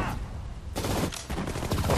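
Dense, continuous gunfire from a World War II battle in Sudden Strike 4, set in the Hürtgen Forest, with rapid volleys and bursts that grow louder after a brief lull and roll on steadily.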